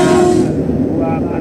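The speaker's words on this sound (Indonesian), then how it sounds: "Perhatikan dari arah barat jalur 2 akan melintas KRL langsung." A KRL commuter electric train, TM 6000 series, passing a level crossing on the Jakarta Kota to Manggarai line, with a loud steady rumble and a brief tonal horn-like blare at the start, alongside a station announcement voice.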